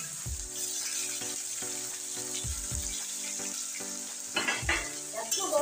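Onion and potato hit hot oil with blackened fenugreek seeds, giving a continuous sizzle beneath a tonal musical background, with a few low thumps and brief bursts of spattering near the end.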